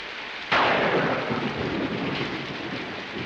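Heavy rain pours steadily after a sudden loud thunderclap, the crack fading into a rolling rumble under a constant dense hiss of rainfall.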